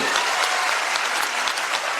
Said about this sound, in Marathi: एकदा जोरदार टाळ्या होऊ द्या विचार मंचासाठी